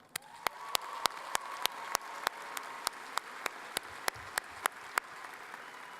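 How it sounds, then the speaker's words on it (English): Audience applause at an Ohio University undergraduate commencement ceremony, heard as a run of sharp, evenly spaced claps standing out over a steady wash of crowd clapping, moderately loud with no talking. "Please, let's applaud them."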